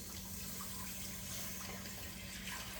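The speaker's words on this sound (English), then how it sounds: "we're going to add our water to it" About three cups of water pour steadily into a pan of gravy, an even, continuous splashing rush with a low gurgling undertone, close by and without any talking.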